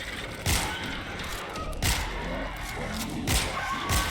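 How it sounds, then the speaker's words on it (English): Explosives detonating in the zombie shooter World War Z, several heavy thumps at irregular intervals over a steady, busy game-noise background. "Explosives going out."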